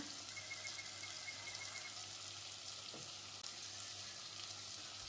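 Tomatoes frying in a pan over chopped onions and garlic, a steady soft sizzle throughout with a faint stir or clink near the middle, no voices.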